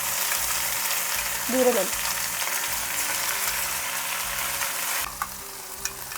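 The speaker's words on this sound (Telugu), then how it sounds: "మనం గ్రైండ్ చేసుకున్న ఈ పేస్ట్ని ఈ ఆయిల్లో వేసేసేయాలన్నమాట. కొంచెం చూసుకొని వేయండి, చిల్లుతుంది" Ground paste for egg pulusu added to hot oil sets off a steady sizzle and crackle with a rhythmic rattle underneath; a brief spoken word cuts in partway through.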